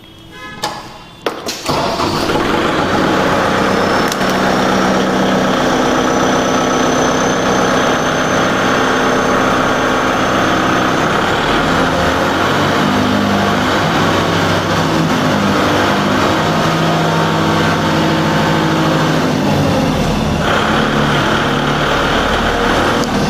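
A Kubota MU4501 4WD tractor, a 45 hp diesel with an engine balancer shaft, idles steadily nearby after a couple of starting thumps, a dense continuous rumble with rhythmic knocking that holds evenly throughout, no voices over it.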